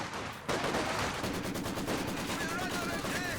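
A Maxim machine gun from Company of Heroes 2 lays down suppressing fire, a steady rapid rattle of close, loud bursts that continues throughout amid battlefield noise.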